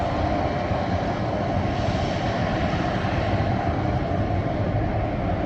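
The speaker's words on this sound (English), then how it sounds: "Southwest 859, 737-700 arriving from Dallas." A Southwest Boeing 737-700 jet arriving from Dallas at Milwaukee gives off a steady, loud, broad engine roar that holds constant, with no other sounds.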